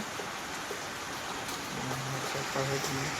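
Steady light rain falls continuously, a soft even hiss of drops on surfaces outdoors, with a faint tonal hum appearing partway through.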